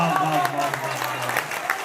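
Brief burst of audience applause at a mushaira poetry gathering held at IIT Delhi, clapping crowd-wide beneath someone speaking over it.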